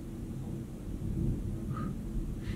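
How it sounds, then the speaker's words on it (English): Thunder rumbles low and steady through a lightning storm with no rain yet, a soft distant roll lasting a couple of seconds with no voices. "You guys hear the thunder?"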